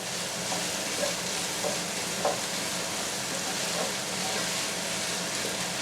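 Softened onions fry over high heat in a pot, a steady close sizzle with occasional faint stirring knocks and a voice murmuring underneath.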